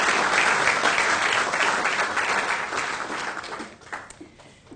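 An audience applauds at a 2013 closing ceremony to welcome a senator, with steady dense clapping that fills the room and then thins and fades toward the end, leaving a few scattered claps.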